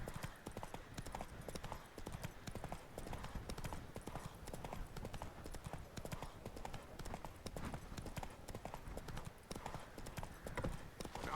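Roach, the horse in The Witcher 3, trots along with a steady, even clip-clop of hooves that runs continuously at a moderate, fairly quiet level.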